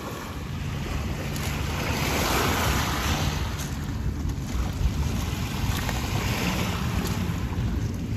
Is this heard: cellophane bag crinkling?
no